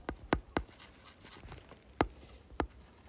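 Chalk or marker strikes on a board while writing during a class 10 polynomials lesson: five or six sharp taps in an uneven rhythm, close and fairly loud, with no talking.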